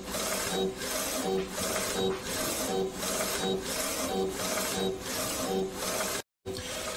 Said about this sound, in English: we will go ahead and let this run